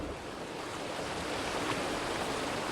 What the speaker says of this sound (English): A giant wave is approaching from the Dark Sea.